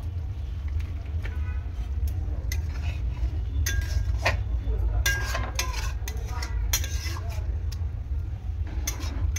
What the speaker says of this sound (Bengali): গরম মশলা দেওয়ার পর একটু নাড়াচাড়া করে নিলাম।